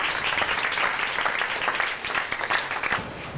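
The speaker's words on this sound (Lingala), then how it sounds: "Acclamez très fort le Seigneur." Church congregation at a French- and Lingala-speaking worship service applauding and cheering loudly, a dense steady wash of many hands clapping that fills the whole stretch and thins slightly at the very end.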